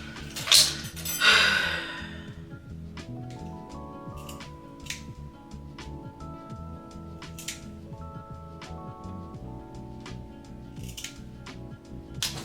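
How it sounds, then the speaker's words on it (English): Scissors snip through wig lace in a series of small, sharp, close cuts at an uneven pace, with a few louder rustling handling sounds at the start and faint background tones underneath. "I'm gonna cut this off."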